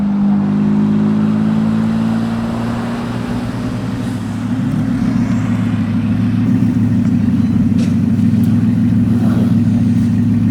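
A luxury car's engine hums close by with a steady low drone, rising slightly as it rolls slowly onto a car wash mat, loud and alone.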